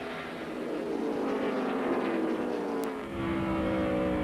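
NASCAR Busch Series stock cars race at Milwaukee Mile, engines roaring loudly and continuously as cars pass down the backstretch, with a brief dip before the roar resumes.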